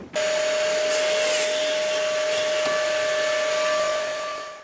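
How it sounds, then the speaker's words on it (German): A groove milling machine (Fugenfräse) cuts a 10 mm deep groove with a loud, steady, high whining hiss and a sustained tonal hum that runs unbroken and tapers off at the end. "Dann fräsen wir erstmal die 10 mm Tiefe."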